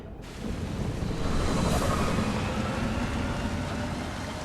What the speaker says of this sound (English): it's raining real hard